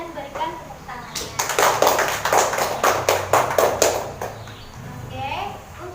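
Classroom students clap for a group of classmates returning to their seats, a few seconds of moderate, fairly brisk applause after a teacher's voice, fading back into quiet room noise and murmuring.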